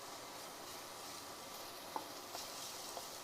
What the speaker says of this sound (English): Stir fry for a couple of minutes.